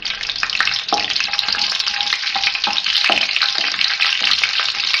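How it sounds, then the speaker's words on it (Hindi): Curry leaves and fennel seeds fry in hot oil with a steady, bright sizzle, punctuated by a few soft clinks of stirring against the pan. "6-7 कड़ी पत्ते ये डालूंगी। फ्राई करेंगे थोड़ा सा"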